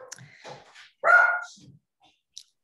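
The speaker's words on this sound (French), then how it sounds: "Attendez, je vais récupérer le chien, comme ça il va se taire" A dog lets out a single sharp bark between quieter whimpering sounds, heard indoors at moderate loudness with a hushed room around it.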